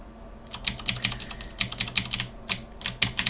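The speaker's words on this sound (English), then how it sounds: "I click P on the keyboard." Keys clicked on a computer keyboard while working in the UPBGE game engine, close, crisp taps in quick irregular bursts with no talking.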